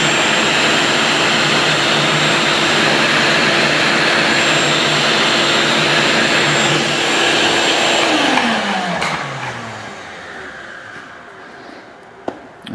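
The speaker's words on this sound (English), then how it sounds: "let me vacuum it" A loud vacuum cleaner roars steadily up close over static grass on a model, then shuts off and winds down with a falling whine, leaving faint handling clicks.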